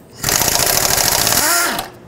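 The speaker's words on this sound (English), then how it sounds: "in order to remove this intake manifold, I'm gonna take out the 9 bolts that hold it on." An impact wrench or power tool rattles out an intake manifold bolt on a 5.4L Ford F-150 engine: one steady, close, loud mechanical buzz for about a second and a half, then a short whine as it winds down.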